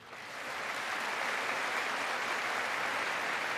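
Sustained applause fills the chamber at a Trump State of the Union address, a steady, dense wash of many hands from a packed room that swells in within the first half-second and holds evenly, with no voices over it.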